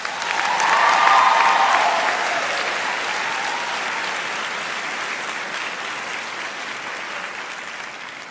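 A convocation audience at a 2013 Cornell Law ceremony breaks into warm applause for the J.D. student speaker, a full room clapping that swells in the first two seconds and then slowly fades over several more.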